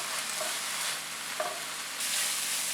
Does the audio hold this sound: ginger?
yes